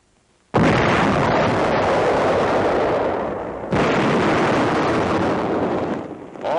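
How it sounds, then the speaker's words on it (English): The Little David mortar fires with a sudden loud blast that rolls into a long, rumbling roar, then a second heavy surge of noise follows before it fades; no one talks. "the gunner pushes the firing button."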